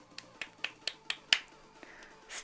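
A game character performs a clapping emote in Tom Clancy's The Division, giving six sharp, evenly spaced claps close up, followed by a few fainter, scattered taps.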